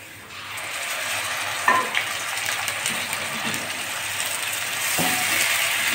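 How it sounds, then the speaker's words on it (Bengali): Ground spice paste stirred into reddish-fried onions in a pan for a masala fish fry, giving a steady broadband sizzle with scraping stir strokes near 1.7 and 5 seconds, close and continuous with no talk. "এবার আমি বেটে রাখা মশলাটা দিয়ে দিচ্ছি"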